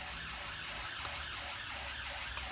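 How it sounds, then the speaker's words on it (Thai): Fire engine and police sirens wail, rising and falling in steady cycles, continuous and moderately distant, with no voices. "เสียงรถดับเพลิง รถตำรวจรถรถดับเพลิงจ้ะ"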